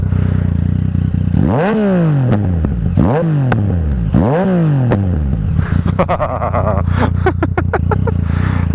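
A Yamaha MT-09 motorcycle with an aftermarket exhaust revs hard three times in succession, each rise and fall sweeping sharply up and back, then sharp crackling pops and bangs spit from the exhaust as it settles, loud and close.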